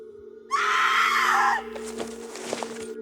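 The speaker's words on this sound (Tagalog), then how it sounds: "Saan galing ang sigaw na yon?" A shrill, piercing scream rings out for about a second in a Filipino aswang horror story, followed by low rumbling and faint thuds over a steady background hum.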